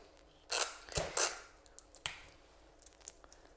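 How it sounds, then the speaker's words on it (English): Tape pulled off the roll and pressed onto a cake board for a ruffle wedding cake, a few sharp tearing rips close up followed by quieter taps and handling in a quiet room. "Next step, we're going to stick tape"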